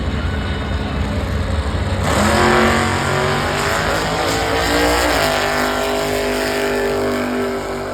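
Race cars at Norwalk Motorsports Park, a loud, continuous engine roar that swells and rises in pitch as cars accelerate, with no talk over it.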